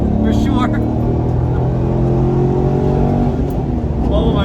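A Corvette Z06 C8 driven hard, its engine holding a loud, steady roar with layered harmonic tones that rise and fall slightly, heard from close by with some talk mixed in.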